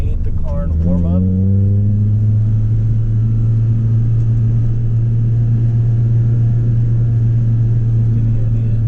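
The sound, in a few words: Toyota Celica engine revving while warming up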